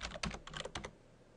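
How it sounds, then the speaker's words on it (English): Quick bursts of keystrokes on a computer keyboard enter a username and password, about a dozen close, crisp clicks in an uneven rhythm that stop abruptly, leaving quiet room tone. "I'm going to type in my admin username and password"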